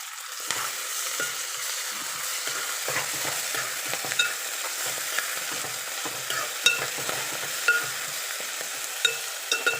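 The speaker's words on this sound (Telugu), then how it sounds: "మెంతికూర కొంచెం ఆయిల్లో వేగితే బాగుంటుందండి, చేదు అనేది రాదు." Fenugreek leaves frying in hot oil with onions in a home kitchen, a steady close sizzle with occasional stirring scrapes and small pops throughout, no talking.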